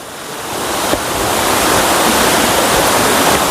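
Shimilijhar waterfall in Nayagarh, Odisha, roars as a steady, loud, broadband rush of falling water that swells slightly after the first second and then holds constant, with no voices.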